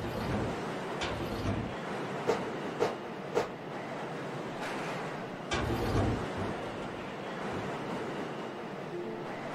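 A train in the video game Lost in Vivo rumbles along its rails with a low, steady roar, broken by a few sharp knocks and clanks; no one speaks.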